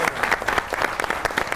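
A studio audience at a comedy show applauds, a dense, even burst of many hands clapping close up for the whole moment.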